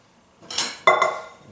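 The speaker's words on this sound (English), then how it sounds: "I'm just going to brush it around to grease the bottom and sides of the" A pastry brush spreading olive oil around a bowl to grease its bottom and sides makes two short, close scraping swishes against the bowl, with no voices.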